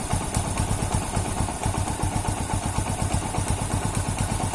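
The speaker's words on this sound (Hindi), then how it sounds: "अब ये मेरा बाइक बंद नहीं हो रहा है," A Hero Splendor Plus motorcycle engine idles steadily nearby with an even, rapid thumping pulse and a light mechanical clatter, running continuously with no voices.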